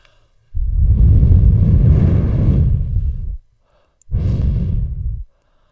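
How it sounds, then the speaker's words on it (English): Breathing or wind noises made as an ASMR trigger: two long, close, breathy exhales, the first lasting about three seconds and the second shorter, separated by near silence. "the next trigger we have is breathing"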